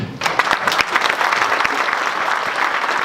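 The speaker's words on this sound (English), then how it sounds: "Edgar Tatro, give him a big round of applause, please." Audience at a JFK assassination conference gives a warm round of applause, steady dense clapping throughout the short stretch, with a voice briefly heard over it.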